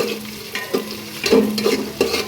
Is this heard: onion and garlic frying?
yes